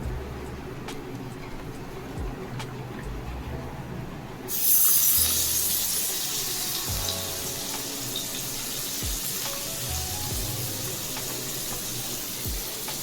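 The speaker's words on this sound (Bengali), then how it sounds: "তেলটা ভালো মতো গরম হয়ে গেলে ওর মধ্যে আমি দিয়ে দেবো গাজর আর বিনসের টুকরোগুলো।" Julienned carrot and bean pieces dropped into hot oil, a sudden loud hiss bursting in partway through, then settling into a steady close sizzle of frying with occasional clinks.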